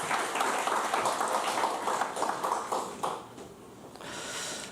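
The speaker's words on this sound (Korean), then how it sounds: "다시 한번 우리 격려의 박수 하겠습니다" A church congregation at a Sunday service claps in encouragement after a hymn, a steady wash of applause that slowly thins and fades, with a softer tail of noise at the end.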